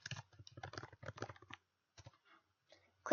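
Rapid bursts of key clicks on a computer keyboard as a name is typed, close and crisp, in short clustered runs with brief pauses and a louder final tap.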